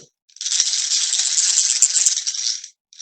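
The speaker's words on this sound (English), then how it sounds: "it makes a little rattling sound as it goes" Flapping toy wings give a light, fast rattling whirr that buzzes steadily for a couple of seconds, close by, then stops abruptly before starting again briefly.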